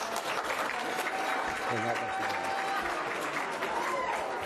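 Audience applause fills an award ceremony for a business hall of fame, steady dense clapping throughout, with a voice briefly announcing a year over it.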